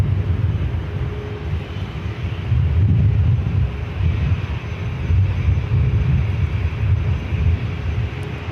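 Delta airliner taking off from runway 24 left at LAX, a sustained low jet roar that rises in loudness partway through and holds steady, with some wind buffeting on the microphone.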